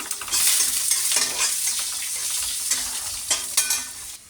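Onions, garlic and asafoetida are stirred into cooked dal with a sizzling, frying sound, close and loud, with repeated scraping stirs and no talk.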